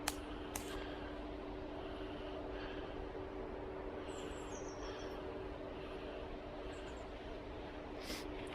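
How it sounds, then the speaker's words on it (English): A few scattered bird calls carry through quiet snowy woodland with storm-felled trees, brief faint chirps and whistles over a steady low hum, distant and sparse. "And you can actually hear a few birds down here."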